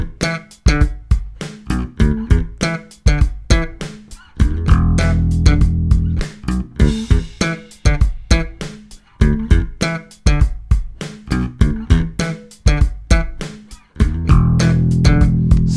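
Beginner slap bass line on a bass guitar, with sharp percussive slaps and pops in a busy repeating rhythm, punctuated by sustained low notes, loud and close with no talking.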